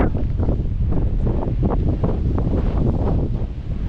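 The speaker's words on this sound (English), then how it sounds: "Wind is picking up" Strong, steady wind roars and buffets the microphone on a snowy hike, a dense, continuous rush with no pauses.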